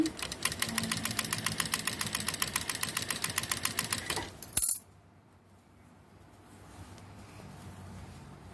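Sewing machine stitching a jacket sleeve seam, with a fast, even mechanical chatter for about four seconds that stops abruptly, leaving a quiet room.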